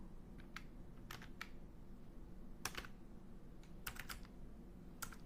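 Someone types in bursts on a computer keyboard, the key clicks quiet and close in several short clusters with pauses between, over low background hiss and no voices.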